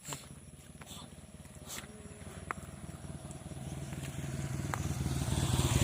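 A motorcycle engine drones and grows steadily louder as it approaches, with scattered clicks and faint sounds around it.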